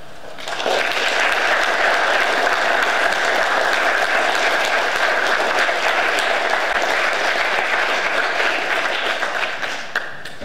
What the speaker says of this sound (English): Give Mr. Mills another round of applause, please.